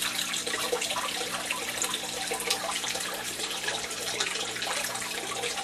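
Water trickles steadily from an outlet into a basement garden fish tank, a continuous soft splashing and bubbling held at an even level throughout, with a low constant hum beneath it.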